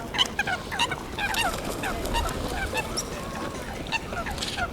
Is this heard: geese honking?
yes